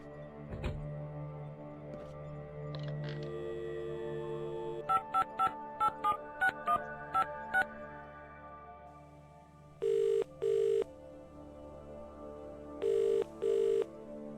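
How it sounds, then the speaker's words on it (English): In the video game The Dream Machine, a phone dials a run of short keypad tones, then two paired ringback tones sound, all clean and close over a low ambient hum. "Let's see if we can try calling him."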